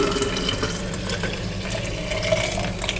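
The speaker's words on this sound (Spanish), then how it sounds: "Voy a colocar aquí la segunda agua del coco." Coconut water for arroz con coco pours in a steady, close, continuous splashing stream that lasts throughout, with no talking.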